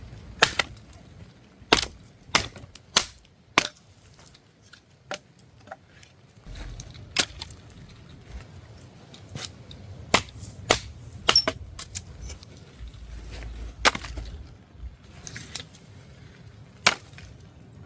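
Firewood chopped with a Collins junior axe at a camp on Hawaii's Big Island: a long series of sharp, irregular woody strikes, close and fairly loud, with quiet outdoor background between blows.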